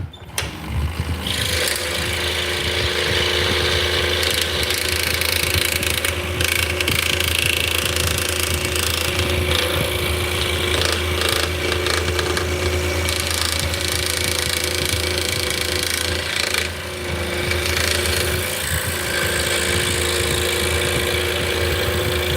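A scroll saw cuts out wooden shapes with a loud, continuous rapid buzzing chatter of the reciprocating blade over a motor hum, steady and close throughout without talk.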